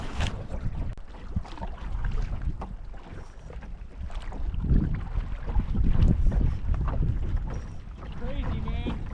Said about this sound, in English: I've been rowing for about 2 miles already.